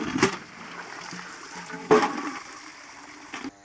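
Water from a village borewell pump gushes and splashes into a bucket and pots, with a couple of sharper splashing bursts over a steady pouring hiss.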